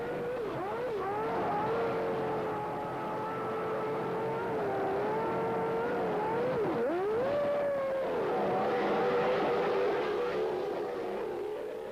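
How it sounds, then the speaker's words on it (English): A 1993 Formula 1 car pulls out of the pits after a tyre change on a wet, slippery track, its high-pitched engine note rising and dipping steadily as it accelerates away, loud and close. "Hill comes in for one of many tyre stops and gets going cleanly."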